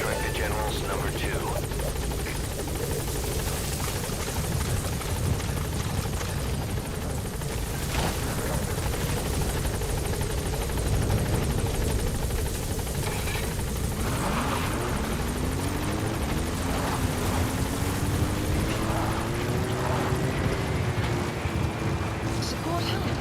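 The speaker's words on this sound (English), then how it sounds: "Support helicopter extraction arrived at Mother Base." Support helicopter in Metal Gear Solid V: The Phantom Pain during an extraction, a continuous close rotor drone with whining turbine tones and rising pitch sweeps, heard throughout.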